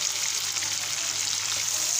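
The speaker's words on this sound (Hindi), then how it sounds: "अदरक और लहसुन डाल दिया जो हमने काटा था, और उसको हल्का सा गोल्डन करेंगे" Ginger and garlic fry in a pan with a soft, even sizzle, a quiet continuous crackle close up with no talking.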